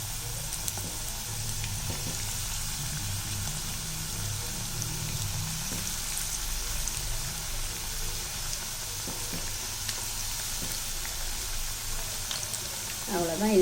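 Maida bonda batter frying in medium-hot oil as an evening snack, a continuous dense sizzle heard up close and steady throughout, with no voices.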